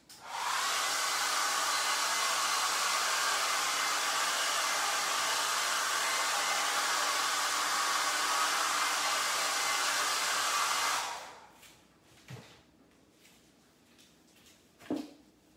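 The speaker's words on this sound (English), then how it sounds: "I'm gonna grab the hair dryer and dry it off real quick." A hair dryer blows steadily and loudly for about eleven seconds to dry wet gold craft paint, then shuts off, leaving faint handling clicks and knocks.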